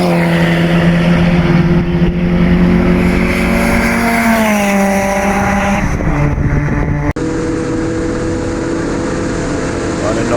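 Toyota AE101 Levin race car with a 4AGZE engine lapping a circuit during a sprint event, a loud sustained engine drone rising and falling in pitch through the gears, heard from inside the car.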